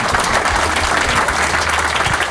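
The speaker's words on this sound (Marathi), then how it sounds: "तर एकदा दोघांसाठी पुन्हा टाळ्या वाजवा" An audience at a Marathi stand-up comedy show breaks into a short, loud round of applause, dense clapping filling the room with no break.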